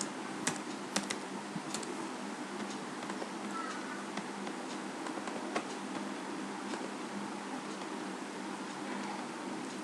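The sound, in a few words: typing on a computer keyboard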